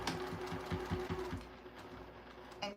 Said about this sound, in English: I'm gonna sew as fast as I can, guys, to get these 4 straps done.